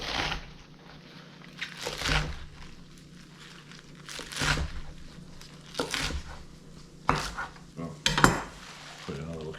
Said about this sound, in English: Let's get it nice, like rough chop, nothing crazy.